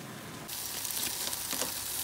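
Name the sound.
baigan (eggplant) and tomatoes sizzling while cooking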